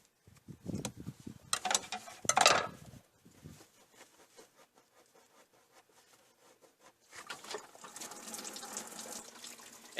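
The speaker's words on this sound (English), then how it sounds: "And now we'll let it all drain into the bucket." Coolant from a Jeep Cherokee XJ radiator splashes into a bucket in brief close bursts at first, goes quiet, then returns as a steadier trickling pour near the end.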